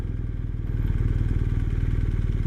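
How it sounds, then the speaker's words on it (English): A motorcycle rumbles past close by with a loud, steady, pulsing engine note that swells as it nears, heard from the road while riding a 2020 BMW R 1250 RS near Jonestown, Texas. "Here comes a motorcyclist."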